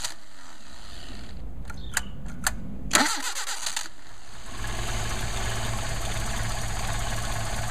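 A Mercedes 190SL with Solex carburetors cranks with a few sharp clicks, catches with a short burst, then settles into a steady, close, rumbling idle that continues to the end.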